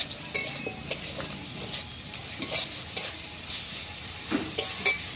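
Grated tomato is stirred into a frying pan, with a soft sizzle under intermittent scrapes and clinks of a utensil against the pan.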